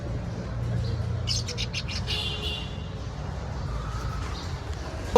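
Cockatiel pairs kept for sale give a short cluster of high, bright chirps midway. A low background hum and indistinct voices sit underneath.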